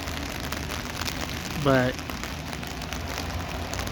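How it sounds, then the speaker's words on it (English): Steady rain falls with a soft, even hiss throughout, and a brief voice cuts in over it partway through. "Hopefully the rain sounds relax you."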